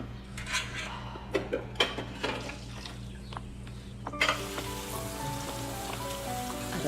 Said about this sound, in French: Ma fille est debout et elle fait la vaisselle